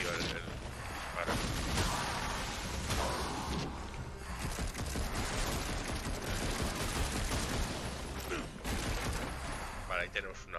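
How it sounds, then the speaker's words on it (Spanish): Rapid gunfire and explosive blasts from the action game Darksiders Genesis fill a dense, loud, continuous battle soundscape with repeated bursts throughout. "Como mola, tío, el disparo."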